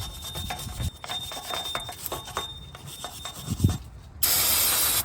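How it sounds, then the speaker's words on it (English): Steady rasping scrubs of a stiff steel wire brush on a 2005-2007 Infiniti G35 rear brake hub, repeated strokes at an uneven pace, close up, ending in a louder harsh burst. "Now get your steel brush and go ahead and start brushing."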